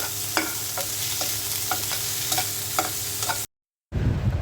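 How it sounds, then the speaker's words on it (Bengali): Prawn heads frying with onion, garlic and green chili in a pan, a steady broadband sizzle with a utensil stirring and scraping at regular intervals, close and alone, broken by a brief silent gap near the end. "পেঁয়াজ রসুন কাঁচামরিচ আর চিংড়ি মাছের মাথাটা ভেজে নিচ্ছি।"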